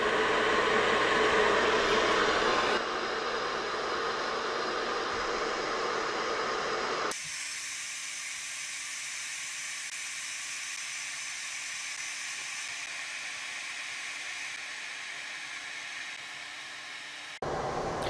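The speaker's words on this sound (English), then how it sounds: "my kettle is boiling, so it's time to turn this off" An electric kettle boils while powered from a WattCycle 12.8V 314Ah LiFePO4 battery, giving a steady loud rushing hiss that drops in level in abrupt steps and then continues as a softer, even hiss.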